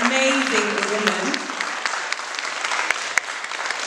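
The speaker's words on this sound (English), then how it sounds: "can we clap for this amazing, amazing woman?" An audience at a book launch for a book on African women claps steadily for a woman, a dense continuous applause from a crowd, with a voice briefly heard at the start.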